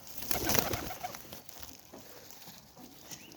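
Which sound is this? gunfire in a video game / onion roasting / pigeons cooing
pigeons cooing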